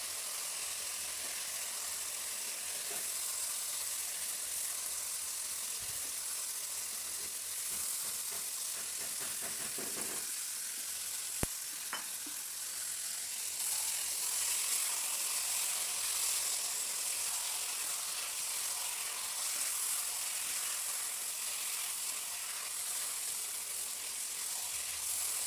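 Pieces of meat fry in oil with well-cooked spice masala, giving a continuous soft sizzle and hiss with occasional faint stirring knocks, fairly quiet and close, no one speaking.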